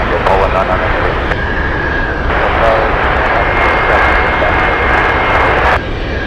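Jet aircraft engines roar steadily at Anchorage airport among Boeing 747s, a loud continuous rumble with a rising whine that holds throughout, with tower radio talk mixed in.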